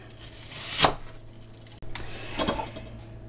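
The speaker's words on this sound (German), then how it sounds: "Die Zwiebel schneide ich jetzt einfach in Spalten." A knife cuts an onion into wedges on a board, making two distinct chopping thuds spaced well apart, with quiet room noise between them.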